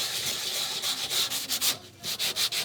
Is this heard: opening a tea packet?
no